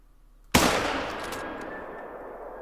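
A single sharp rifle shot fired at a whitetail buck in theHunter: Call of the Wild, a loud abrupt crack followed by a long rolling echo that fades slowly across the landscape.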